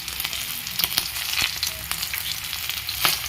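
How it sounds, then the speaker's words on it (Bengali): Green chillies tossed into hot oil in a pan sizzle and crackle steadily, with sharp pops scattered through the continuous frying hiss. "আমি কটা কাঁচা লঙ্কা দিয়ে দিলাম।"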